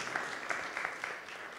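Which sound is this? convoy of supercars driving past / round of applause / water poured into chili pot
round of applause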